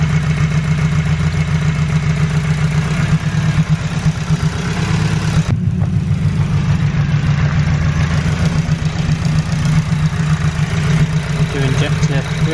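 A diesel engine idles steadily during an injector test with one cylinder's injector isolated, giving a continuous low rumbling drone throughout with a brief dip in the middle.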